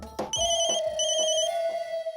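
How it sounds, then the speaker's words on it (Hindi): A phone ringtone rings loudly and close, a bright electronic melody of repeating tones with steady chimes, alone with no voices. "देखते हैं किसका फोन आया।"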